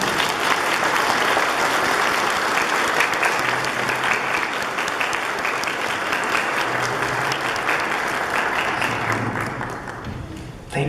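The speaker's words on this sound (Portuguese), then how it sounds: "Vou dar uma salva de palmas." Sustained applause from a church congregation at a Portuguese-language Mass for the 23rd Sunday in Ordinary Time, steady and full for about ten seconds before tapering off near the end.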